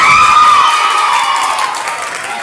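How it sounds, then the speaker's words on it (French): An audience in a school hall cheers and applauds the champions of a spelling and conjugation contest final, a loud burst that fades gradually over a couple of seconds. "Je vous demande de les applaudir."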